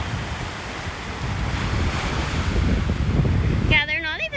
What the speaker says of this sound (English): they're not even big waves either, Will